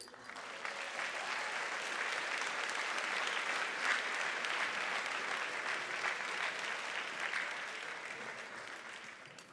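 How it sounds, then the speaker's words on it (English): A banquet audience of high school seniors and guests gives a sustained round of applause, broad and even, swelling slightly in the middle before easing off. "Can we please give him another round of applause"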